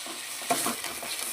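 Blended spice paste frying in hot oil gives a steady close sizzle, broken by a brief scrape of a spoon stirring it.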